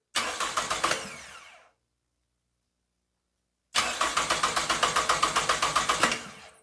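A car's starter motor cranks in two bursts without the engine catching, a loud, close, rhythmic whirring chug, first short and then longer, separated by silence.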